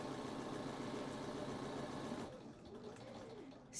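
A home sewing machine stitches around the edge of a fabric needlebook at a quarter-inch seam, a steady close mechanical whir that runs continuously for over two seconds, then drops to a quieter hum as the stitching slows and stops.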